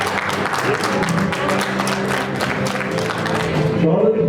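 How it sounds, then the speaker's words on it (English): An audience at a masters powerlifting world championship claps in a steady round of applause, moderately loud, with voices murmuring through it and the clapping thinning out near the end. "Give Boris a big round of applause"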